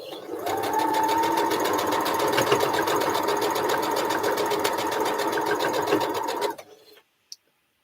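Sewing machine running in one long continuous burst of rapid, even mechanical chatter, close and loud, stopping abruptly near the end, followed by a single faint click.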